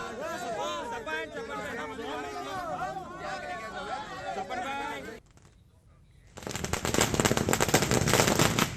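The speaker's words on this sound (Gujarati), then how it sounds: "કોંગ્રેસ કાર્યકર્તાઓએ ફટાકડા ફોડીને ઉજવણી કરી" Firecrackers set off by Congress party workers celebrating a candidate's announcement burst in a dense, loud crackling volley in the final seconds, after a stretch of crowd chatter and talk and a brief lull.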